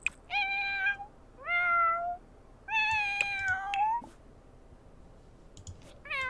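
A cat in The Sims 4 meows three times, clearly and close, with drawn-out rising and falling cries, among scattered light mouse clicks.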